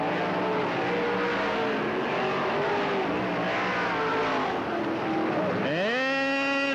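Race cars lapping Cottage Grove Speedway in 1991, engines droning steadily at full throttle with a sharp rising whine as a car passes close near the end.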